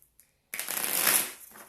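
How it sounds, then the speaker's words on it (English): A couple of soft taps, then a single riffling whoosh of tarot cards being shuffled, close and quiet. "So I'm going to go ahead and start shuffling."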